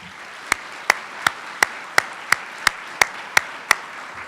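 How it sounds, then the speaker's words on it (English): Applause at a scholars' medals ceremony, heard as a sparse run of about ten sharp, evenly spaced claps over a faint crowd murmur, fairly quiet and without talk. "let's join in a round of applause for amazing people"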